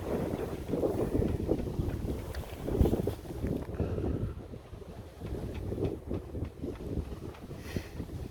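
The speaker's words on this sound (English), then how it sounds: "12 knots of wind, pushing along at 7 knots." A sailboat under way in about 12 knots of wind off Northern Ireland, with steady wind buffeting and water rushing past the hull, fairly loud and continuous, with no one talking.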